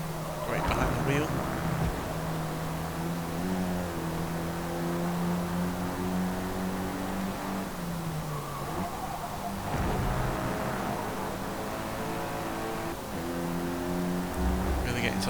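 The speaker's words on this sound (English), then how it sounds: "It's not often like that I enjoy the sound of an inline 4, but yeah, the big exhausts on this that have been added to this car are working a treat." An inline-4 sedan fitted with big aftermarket exhausts, racing in Forza Motorsport, drones loud and steady with sustained engine tones that shift pitch as it accelerates and shifts, a voice talking over it throughout.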